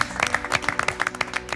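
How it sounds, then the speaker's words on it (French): Small group on a French television baking competition clapping for a departing contestant, a short, close burst of distinct, uneven claps. "Et on peut t'applaudir."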